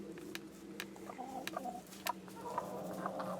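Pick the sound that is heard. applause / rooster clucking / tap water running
rooster clucking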